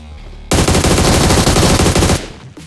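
Rapid automatic gunfire in the BGMI (PUBG Mobile) battle royale game, one loud dense burst of about two seconds after a short quiet lead-in, then fading out.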